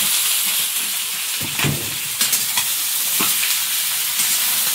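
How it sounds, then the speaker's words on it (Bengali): Nigella seeds, garlic, green chillies, chopped onion, bottle gourd stems and potato fry in hot oil, giving a steady close sizzle and hiss broken by a few stirring scrapes and clatters. "তেলে এখন একটু কালো জিরে, রসুন, কাঁচা লঙ্কা, পেঁয়াজ কুচি দেবে, ডাঁটা আর আলু।"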